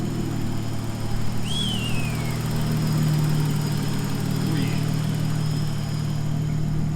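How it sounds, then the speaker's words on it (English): A steady low idle rumbles throughout from a Nissan Skyline R31 engine, with a faint bird chirp over it. "it started first time, and it's just sitting there idling"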